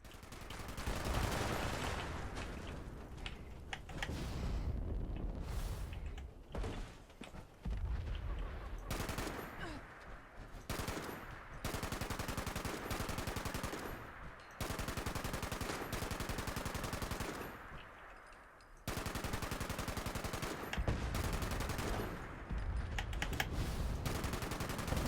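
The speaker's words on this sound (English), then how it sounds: "That's really fun to jetpack and then shoot at the same time." Rapid bursts of automatic gunfire in Fallout 76, loud and dense, broken by short pauses between strings of shots.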